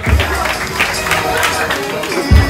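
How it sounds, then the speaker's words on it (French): An audience at a school debate final applauds for a speaker with steady, dense clapping and crowd noise throughout, loud and close. "Maximum d'applaudissements pour Madame Monia"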